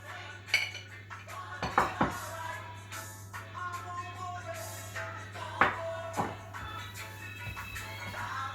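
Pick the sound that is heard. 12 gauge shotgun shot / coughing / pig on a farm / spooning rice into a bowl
spooning rice into a bowl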